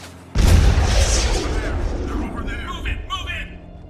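Hostile gunfire and explosions in the video game Halo: a sudden heavy boom erupts and rolls on as sustained, rumbling blasts, with a voice talking over the din.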